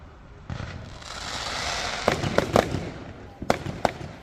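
Bonfire night fireworks boom and crackle at a public display, with a rising whoosh followed by sharp pops and bursts, partly close and loud, with people talking nearby.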